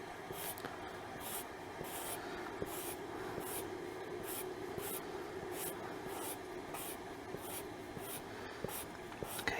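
A pencil or pen scratches steady, repeated contour strokes across paper, close and continuous with a regular rhythm of short sweeps and no voices.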